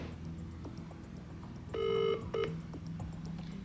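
A phone call ringing through on a handset: two electronic ring bursts, the first longer, over a low background hum, with no talking.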